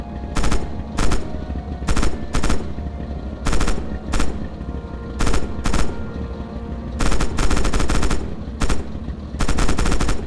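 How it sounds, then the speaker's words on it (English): Tank hull machine gun firing in Red Orchestra 2, loud and close, delivered in a rapid string of short bursts with brief pauses between them. "Use the hull MG and open fire on the targets."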